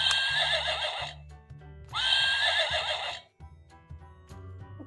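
Recorded horse neigh from a farm-animal sound puzzle toy, two loud whinnying bursts close by with a soft musical tune underneath.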